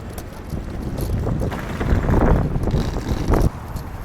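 Wind blows hard near Norwich Station, a continuous buffeting roar on the microphone with a gust building mid-way and easing toward the end, no voices heard.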